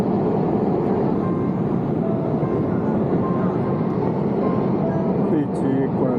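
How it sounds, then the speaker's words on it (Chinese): Inside the cabin of a Hainan Airlines airliner banking through a sharp turn, a loud, steady engine and airflow roar fills the space without letup, with faint cabin sounds drifting in toward the end. "飞机拐了一个急弯，从常德那边拐回衡阳方向"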